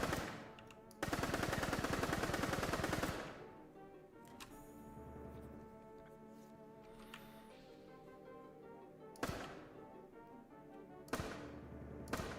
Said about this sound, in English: Right now the RPG is a machine gun.